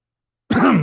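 A single short, loud cough sounds close to a microphone after silence, cut off abruptly.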